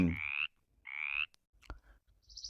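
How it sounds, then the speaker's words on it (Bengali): Frog croaks heard alone at low volume: two rasping calls about a second apart, followed by faint clicks and a softer chirping call at the end. "ব্যাং"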